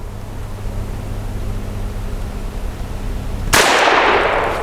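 A single loud revolver shot from a Diamondback Firearms Sidekick firing a Varmint HV load breaks sharply out of quiet room noise near the end, its blast and ring lingering for about a second.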